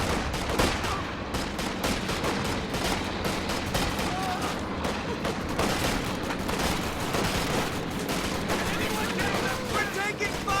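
A World War II video game tank battle roars with dense, continuous gunfire, machine-gun bursts and heavy artillery booms, all loud and overlapping, while voices talk over the din.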